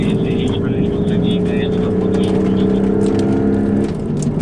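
A Porsche 911 Carrera GTS hybrid (992.2) engine drones loudly with a steady, throaty tone, close up and sustained, easing slightly near the end.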